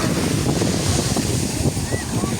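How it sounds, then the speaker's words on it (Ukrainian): Sea waves washing onto a beach under a cloudy, rumbling sky, steady surf roar mixed with strong wind buffeting the microphone, loud and continuous throughout. "зараз знімаю море"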